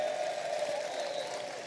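Brief applause from an audience during a political talk show: a short burst of steady clapping, moderately loud and even throughout.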